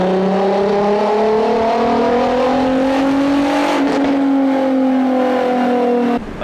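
A tuned Golf 4 R32 turbo engine revving under load in gear, a steady rising drone with a strong harmonic whine climbing in pitch, then a brief break as the throttle lifts near the end.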